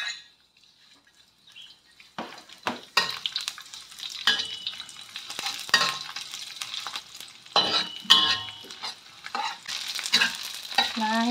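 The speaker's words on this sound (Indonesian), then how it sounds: "Ini minyaknya udah panas ya, saya goreng terinya dulu." Small dried anchovies frying in hot oil in a wok crackle and sizzle up close, with bursts of spattering and scraping strokes as they are stirred, growing busier after a quiet start.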